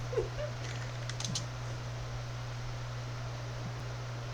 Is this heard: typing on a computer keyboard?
yes